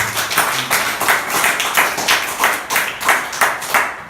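A congregation at a church sermon breaks into steady, rhythmic group clapping, the claps landing in even beats of moderate loudness throughout.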